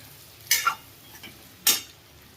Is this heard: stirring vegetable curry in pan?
yes